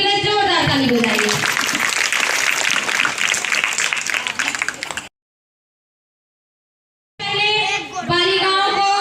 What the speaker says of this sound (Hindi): उनके लिए जोरदार ताली बजाइए।